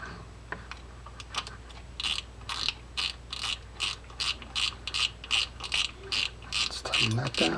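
A Quantum Optix 60 fishing reel's drag knob is tightened, producing a steady series of sharp, close ratcheting clicks in evenly spaced bursts that grow a little louder toward the end.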